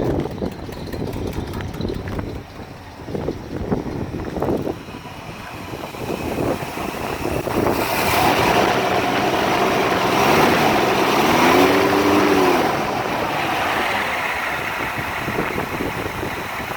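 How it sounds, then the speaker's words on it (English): A 1957 Ford Thunderbird's 312 V8 engine rumbles nearby, first idling with uneven low pulses, then revving up into a louder, steady roar that swells and holds. "Engine sounds nice and tight."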